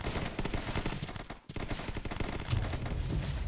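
Two players trade rapid gunfire in the battle royale game ZombsRoyale, a dense, continuous stream of shots with a brief gap midway, loud and close.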